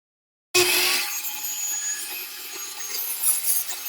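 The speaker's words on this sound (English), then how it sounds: "I'm going to use my Milwaukee 7¼ inch saw because I want to make sure that I have corded power and consistent power" Milwaukee 7¼ inch corded circular saw with a thin carbide blade kicking on after a moment of silence and cutting with a loud high whine and rasping bite, steady and close with no voices.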